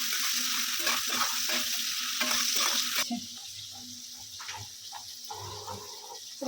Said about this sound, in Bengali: পেঁয়াজটা যতক্ষণ না ব্রাউন হবে, ব্রাউন কালার চলে আসবে, ততক্ষণ আমি পেঁয়াজটাকে একটু নাড়াচাড়া করবো।